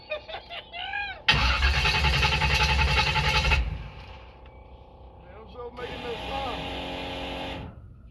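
An old Chevy OBS pickup engine cranks and catches, then revs loud and rough for a few seconds, drops to a low idle and revs again, with people talking nearby.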